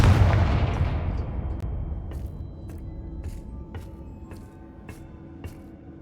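A Confringo blasting spell from the video game Hogwarts Legacy lands as a heavy booming blast at the start and rumbles away over several seconds, with a few faint clicks afterward.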